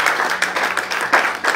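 An audience at a church teaching gathering applauds, with dense, energetic clapping from many hands filling the short stretch at a fairly loud level.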